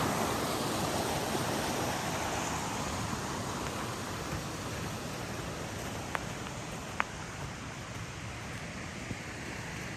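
Creek water at a campground along Still Creek, flowing in a steady, even rush with a couple of faint clicks in the background. No one speaks.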